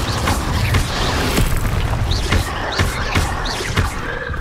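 Incendio fire spells cast repeatedly in Hogwarts Legacy, heard as a string of whooshing, crackling bursts of flame in quick succession that stay loud and dense throughout.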